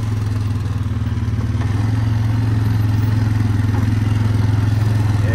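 Polaris Sportsman 500 ATV engine pulling over a curve, a loud close steady motor drone with a pulsing low throb that rises slightly in strength toward the end, with no talk over it.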